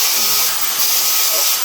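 A Dyson vacuum cleaner, just cleaned and repaired after losing suction, switched on and running: a steady, loud, airy whine and rush of airflow, close and continuous with no speech.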